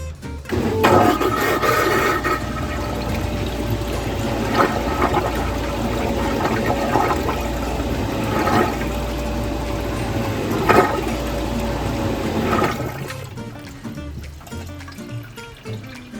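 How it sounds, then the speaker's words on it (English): A newly installed marine head on a project boat flushes for about ten seconds, a steady loud rush of water and pump churning that runs continuously, then cuts off and leaves faint room noise. "So that was a 10-second flush there on the toilet, and it did not backflow while flushing at all"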